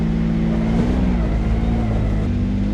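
Can-Am X3 side-by-side engine running loud and close with a steady droning growl that rises slightly in revs, with no talking.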